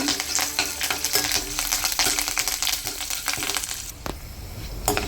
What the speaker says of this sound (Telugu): వెల్లుల్లిపాయలు ఎండిమిర్చి కరివేపాకు బాగా వేగనివ్వండి